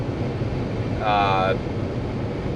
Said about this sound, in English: I hear a significant amount of wind noise